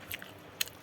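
Two soft crisp bites into a cooked egg, close and quiet, about half a second apart, with a faint chewing crackle in between.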